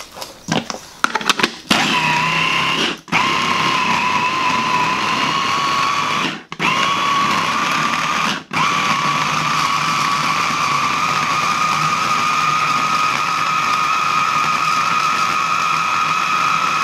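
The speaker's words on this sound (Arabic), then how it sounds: "غادي نطحنو دروك مطيشة، كنخليو مطيشة ديالنا بالحبيبات ديالها ماشي مشكل." A food processor grinds tomatoes into a chunky sauce for a tuna pizza, its motor whirring loud and steady after a few short bursts, with brief pauses where it stops and restarts.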